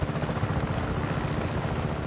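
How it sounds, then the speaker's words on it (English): A helicopter in Just Cause 3 produces a steady, droning rotor roar that holds at an even level throughout, with no speech. "Can I get in the helicopter now, please?"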